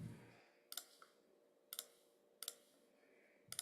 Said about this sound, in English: So I'm gonna go ahead and click in here,